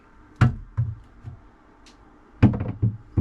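The lid of an SLA 3D printer is shut with a hollow plastic knock, then a cluster of thumps and clicks as it settles and is handled, close and fairly loud in an otherwise quiet room.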